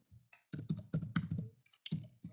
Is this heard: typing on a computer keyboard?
yes